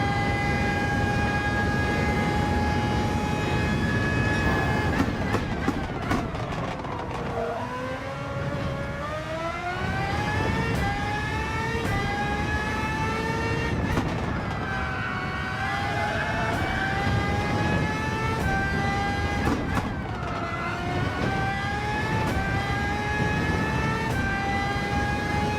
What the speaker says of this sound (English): if you can just ease in on the throttle, quite a bit better acceleration out of there